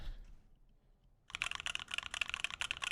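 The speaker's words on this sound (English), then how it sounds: "I'm gonna hit the keys and we can hear what it sounds like typing it" Rapid clicking of computer keys in a steady typing burst, close and fairly loud, starting after a second of near silence.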